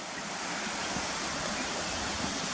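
A stream flowing beside a footpath near Cotter Force waterfall in the Yorkshire Dales, a steady broadband rush of water, close and continuous with no breaks.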